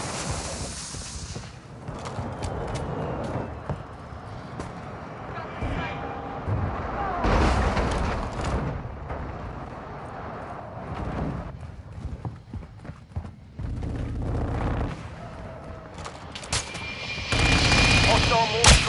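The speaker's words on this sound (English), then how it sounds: "Hostile mortar strike near your position." Mortar strike explosions and gunfire in Call of Duty Warzone 2 (Modern Warfare II) online Invasion mode, with repeated loud blasts and crackling shots across a busy battlefield mix, under game radio voices.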